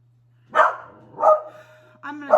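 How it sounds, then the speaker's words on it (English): A dog barks three times close by, loud, sharp and evenly spaced, with a steady low hum in the background of an indoor morning routine at home. "I'm gonna go because Oliver won't quit barking"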